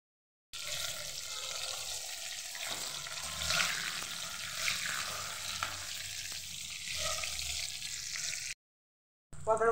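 Pieces of pointed gourd (potol) coated in salt and turmeric fry in hot oil with a steady, close, crackling sizzle that runs for several seconds before cutting off abruptly.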